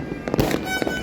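New Year fireworks set off by neighbours crackle and pop in quick, irregular bursts, fairly close and loud, with no voices.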